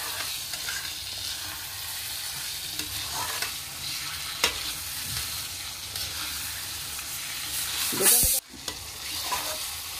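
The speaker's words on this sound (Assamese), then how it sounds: "গোচটো ভুনা কৰাটো দেখিছে" Chicken bhuna-fries in oil in a karahi, a steady sizzle broken by scraping stirs and a sharp clatter near the end.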